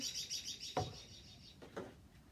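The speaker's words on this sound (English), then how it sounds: "And those are our beautiful birds" Small birds chirping around a porch bird feeder, bright high tweets repeating steadily throughout with a couple of soft brief knocks underneath, moderately distant and fairly quiet.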